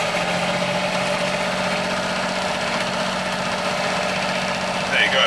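A Ford TW25 tractor engine runs at a steady loud idle, a dense droning rumble with faint vibration throughout and a brief higher whine near the end.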